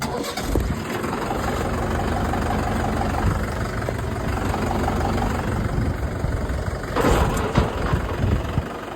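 A Rhino tractor engine runs loud and close for the whole stretch, a rough steady rumble with a brief surge of revving near the end.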